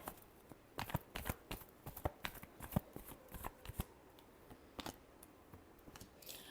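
Tarot cards being shuffled by hand, a quiet run of quick papery riffles and flicks in irregular bursts, close and alone without talking.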